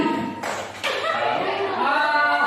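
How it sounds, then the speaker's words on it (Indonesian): A group of teachers in a training session clapping hands, a couple of sharp clap bursts followed by light chatter and chuckling in the room. "Oke, tepuk tangan."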